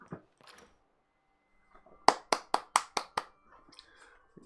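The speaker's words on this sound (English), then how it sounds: "Round of applause" One person claps about six times in quick, even succession, sharp and close, between faint bits of speech and quiet.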